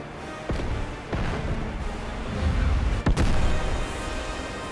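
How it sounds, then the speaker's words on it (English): A large explosion in the video game Final Fantasy 7 Remake, a sustained booming roar with sharp bursts of debris and blasts layered over it, loud and close with no talk. "That explosion is still as impressive as ever."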